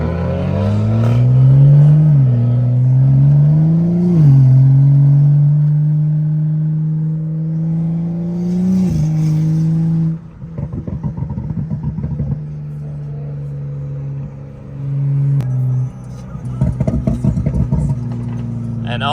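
A BMW F10 535i on E85 with an aftermarket intake revs through several rising pulls while driving, its engine note climbing and dropping, then settling into a steady drone with clattering bursts.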